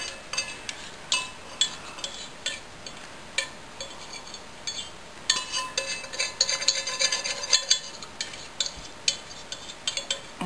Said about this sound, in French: Je vais brasser un peu.